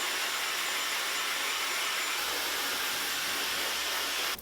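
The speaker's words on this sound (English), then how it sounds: "I'm just going to use this little hair dryer attachment to get my hair damp" Small hair dryer with a diffuser-style attachment blowing on damp hair, a steady loud airy whoosh with a low rumble that holds unbroken the whole time, close and alone.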